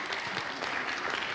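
Steady applause from a crowd at a literacy conference award presentation, dense clapping throughout at a moderate distance.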